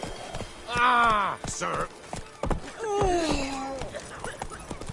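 Hooves of the horse Roach clop along in The Witcher 3, steady and moderately close, mixed with game sounds and a drawn-out whinny-like vocal tone, while a character speaks briefly.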